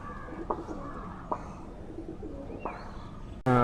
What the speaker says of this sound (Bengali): আমরা কালাম ভাইয়ের হাতে আরও দুটো কবুতর দেখতে পাচ্ছি